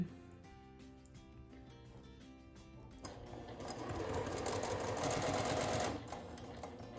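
A sewing machine stitches a fabric badge lanyard, first in short ticking bursts and then in a louder continuous run of several seconds before easing back down, close by with no talking.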